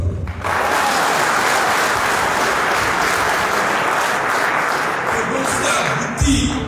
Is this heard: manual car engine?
no